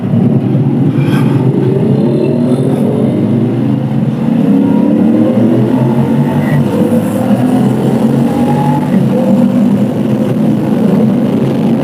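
A CFMOTO 450SR twin-cylinder motorcycle with a 270-degree crank, its engine droning loud and close with a throaty continuous rumble that rises and falls slightly across the clip, no speech over it.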